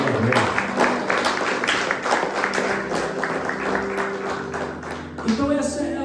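A church congregation applauds together in a sustained burst of dense clapping that fills the room, fairly loud and steady, then tapers off near the end.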